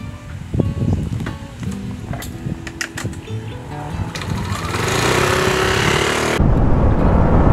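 Yamaha Aerox 155 scooter riding along an empty road, a buzzing engine rising with speed, loud wind rush building near the end, no voices.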